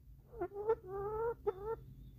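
A hen softly clucking in a few short, close calls, rising and falling in pitch with brief pauses between, in a quiet indoor setting with no talking.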